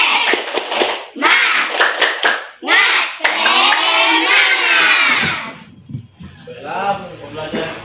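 Schoolchildren in an Indonesian elementary science class clap a rhythmic spirit chant, with quick sharp claps in patterned bursts alongside loud shouted chanting voices, then a teacher speaks.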